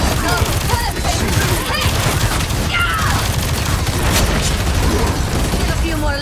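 Heavy-weapon gunfire from the Punisher in Marvel Rivals, a dense, continuous barrage of loud automatic shots and explosive impacts, with a voice and game effects layered over the unbroken roar.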